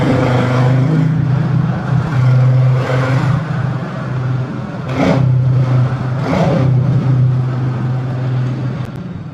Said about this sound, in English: Let's have a listen to this little bike.